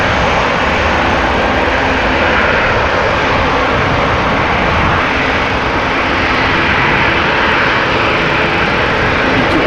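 A Boeing 787-9 airliner on the runway at Amsterdam Schiphol Airport gives a loud, steady jet engine roar that stays constant throughout, with no voices.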